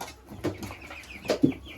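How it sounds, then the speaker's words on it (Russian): Turkeys feeding on greens from a bucket give a few soft, close clucks and short calls, spaced irregularly over quiet background. "И индюкам лучше всего зелень давать в ведре."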